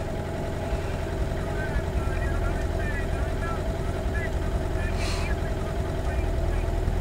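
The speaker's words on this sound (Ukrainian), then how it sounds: "Давай я вже завів машину, і їду додому." A car engine idling and running steadily, heard from inside the vehicle as a constant low rumble throughout, with faint road or cabin noise and no clear speech.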